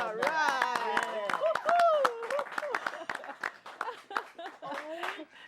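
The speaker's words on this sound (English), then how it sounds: "Let's give another clap" An audience claps in sharp, scattered bursts under loud overlapping voices, the applause continuing steadily through the talk.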